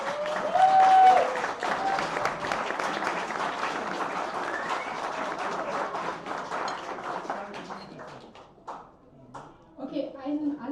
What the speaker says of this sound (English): let's give her a clap of hands